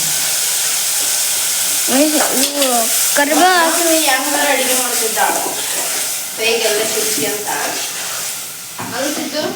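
Onions frying in a pan with a steady loud sizzle and hiss, stirred now and then, while people talk over it throughout.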